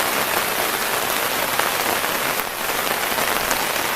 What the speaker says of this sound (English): this rain's doing everybody good